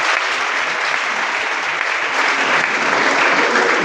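A gathered crowd in Rwanda keeps up loud, dense applause, an even wash of clapping that stays steady from start to finish.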